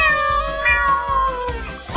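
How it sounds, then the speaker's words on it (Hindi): A robot dog toy plays a recorded cat meow, a drawn-out wavering mew lasting about two seconds, loud and close with nothing else heard. "बिल्ली।"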